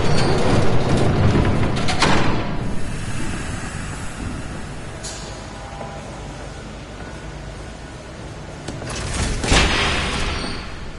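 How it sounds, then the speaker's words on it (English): An approaching train in the video game Batman: The Telltale Series gives a loud, continuous rumbling roar that swells at the start, eases off, then surges again near the end, with no one speaking. "There's a train coming."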